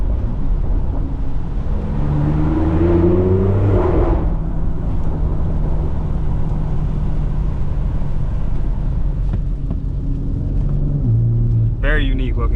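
A BMW X3M with a loud $4000 aftermarket exhaust revs close by in a deep, rising roar, then settles into a steady heavy rumble with a second short blip near the end.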